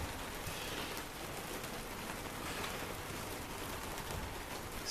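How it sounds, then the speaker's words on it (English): Steady rain falls outdoors near a greenhouse with a rocket stove, a constant even hiss of drops on surfaces, faint and distant, with no one speaking. "So it's raining now."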